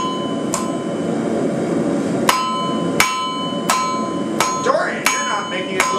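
Hammer striking hot metal during forging, seven or eight sharp ringing blows at irregular intervals, close and loud over a low background rumble.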